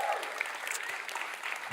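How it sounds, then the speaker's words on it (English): Brief, bright clapping from an audience at a Sundance Film Festival farmers' event, a dense burst of applause from a crowd that carries on steadily for under two seconds. "Another round of applause, please."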